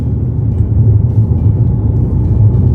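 A BMW M235i cruises in city traffic, heard as a constant low engine and road rumble from inside the cabin, steady and fairly loud with no talk.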